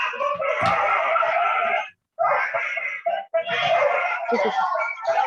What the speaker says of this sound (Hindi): अपने सोसाइटी में बहुत सारे कुत्ते हैं